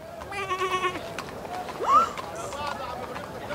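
A sheep bleats once, a short wavering cry heard close, amid dubbed talk and light background noise.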